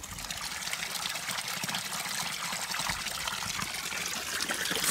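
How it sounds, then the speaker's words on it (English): Natural spring water in Spain pours and trickles steadily from an outlet, a continuous close splashing flow with no break. "Fresh spring water."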